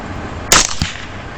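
A single sharp rifle shot at a hog near a barn at night, one loud close crack followed by a brief echo over steady background noise.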